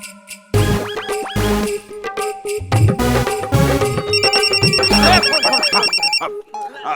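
A telephone rings amid a dramatic television serial scene, its electronic tone repeating over loud background music and effects, with no speech during the ringing.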